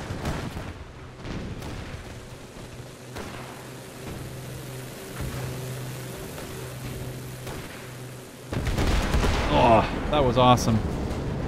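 A 500 bomb falls and explodes in the Gates of Hell game during a flak battery's defence against an armour push. Low droning and distant booms are followed by a loud, sustained burst of blast and debris, with someone speaking excitedly.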